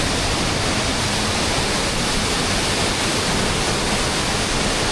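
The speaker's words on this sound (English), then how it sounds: "now this is a waterfall" Large waterfall in the Scottish Highlands, a steady, dense roar of heavily falling water close by, loud and unbroken throughout with no voices.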